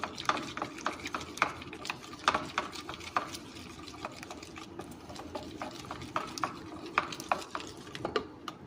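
A besan laddu mixture is being worked with red food colour, producing a soft, continuous stirring and scraping with rapid repeated taps and clicks against the bowl, fairly faint and close.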